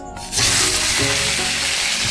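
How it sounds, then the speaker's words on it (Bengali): Loud, steady sizzling bursts in after a brief quiet moment as a hilsa fish head drops into hot oil in a wok, crackling continuously and close up. "এবার আমি একটা ইলিশ মাছের মাথা দিয়ে দেবো"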